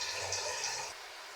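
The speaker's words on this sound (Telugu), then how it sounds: "చూడండి, రైస్ వేస్తున్నాను" Rice tips into a pot of hot water while cooking paneer biryani, a brief close splashing pour that fades out within about a second.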